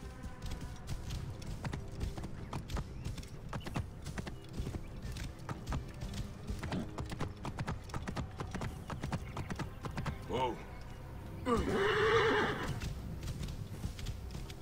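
Horse hooves clip-clop steadily through most of a stretch of Assassin's Creed Origins gameplay, with a loud horse whinny near the end; a voice speaks briefly over it.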